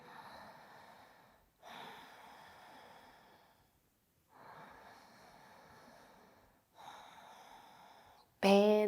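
Slow, deep breathing in a yoga triangle pose: four long, soft inhale-exhale swells at a steady, unhurried rhythm, close and clear, ending on a brief sharper sound.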